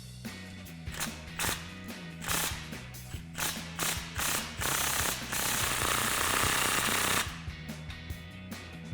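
A ratchet with a 15mm socket snugs up an exhaust clamp on a 2015-2023 Mustang EcoBoost sport cat-back exhaust, giving close bursts of rapid clicking strokes with short pauses, then a longer continuous run.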